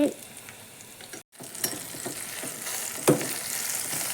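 Soft sizzling of vegetables and tomato sautéing in a pan, a steady crackle with a brief gap and a few louder pops and scrapes from stirring.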